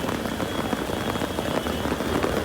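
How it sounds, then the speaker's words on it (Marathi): Heavy monsoon rain pours down steadily and loudly in Mumbai during a Ganpati arrival procession, a dense unbroken hiss close by with no voices. "पाऊस एवढा डेंजर पडतो आता"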